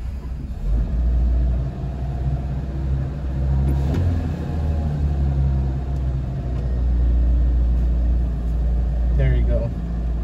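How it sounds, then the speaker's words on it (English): A 1965 Volvo PV544 Sport's engine runs at a steady, deep idle, a close low rumble that carries throughout, with brief clicks and knocks. "should be able to just start it right up"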